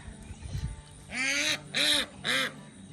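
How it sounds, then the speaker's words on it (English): Fed ducks quack three times in a row, loud and close, each call drawn out, with low rustling beforehand in a flooded summer garden. "Let's check on the ducks, they just got fed."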